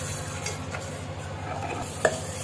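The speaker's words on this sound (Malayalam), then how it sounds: "മാവിലേക്ക് നല്ലപോലെ ഇളക്കി യോജിപ്പിക്കാം" Salted dosa batter being stirred in a bowl, a soft continuous wet swishing with one brief sharper knock of the spoon near the end, fairly quiet and close.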